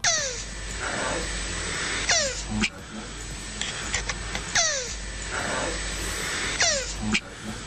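A tortoise mating with a shoe makes repeated high, descending squeaky squeals in bursts with rhythmic soft knocks, a few seconds apart, fairly quiet against a low background hum.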